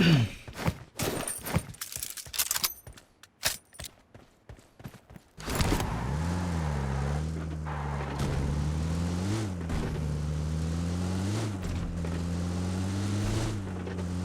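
A vehicle in the PUBG Mobile video game drives off after a few sharp impact sounds, its engine a steady near hum that swells and dips in pitch as it accelerates and shifts.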